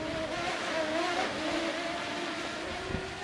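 A small HS210 mini drone hovers in wind, with its steady buzzing propeller whine rising and falling as the motors work against gusts. Wind rumble runs beneath it, and no voices are heard.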